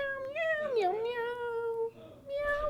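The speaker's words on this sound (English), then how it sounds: "Put Percy's meows over this" Percy the cat gives a drawn-out, close meow that wavers in pitch, then a shorter meow after a brief pause.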